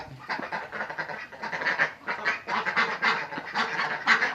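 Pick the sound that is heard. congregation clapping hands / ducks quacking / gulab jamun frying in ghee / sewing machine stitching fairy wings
ducks quacking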